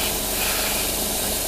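Steady airbrush or spray-can hiss as paint is sprayed onto a Revell 1/48 F-15E Strike Eagle model aircraft kit, a continuous close broadband rush with no pauses.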